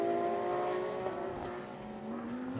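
A Porsche 911 race car with a 4-litre flat-six engine running in night practice at a 24-hour race in Barcelona, a steady droning engine note that sags slightly in pitch, heard at a moderate distance.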